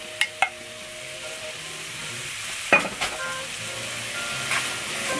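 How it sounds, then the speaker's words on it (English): Two large onions dropped into melted butter in a Dutch oven and stirred, a soft steady sizzle with a few sharp clinks of the utensil against the pot. "into your melted butter in your duchy, you're gonna put your 2 large onions"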